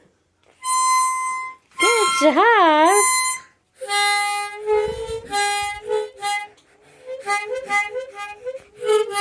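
A child plays a harmonica in wavering, bending notes in short bursts and breathy runs, with a voice talking briefly partway through.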